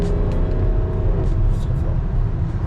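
A BMW X5 35d on the move, heard from the cabin as a steady low engine and road drone with faint higher tones, and a voice speaking softly in the background.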